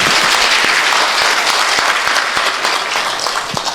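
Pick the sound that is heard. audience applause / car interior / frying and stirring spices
audience applause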